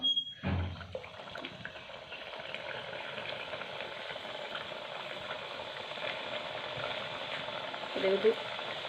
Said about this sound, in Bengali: জোর জালে ভাজা যাবে না তো আস্তে আস্তে আস্তেই ভাজতে হবে